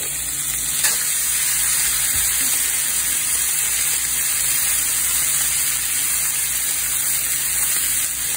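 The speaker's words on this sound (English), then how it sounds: "Nice thing about cooking steaks in cast iron is all you have to do is wait for them to be done" Steaks sizzle in a cast iron pan with a steady, close frying hiss that runs unbroken and alone, with one faint clink partway through.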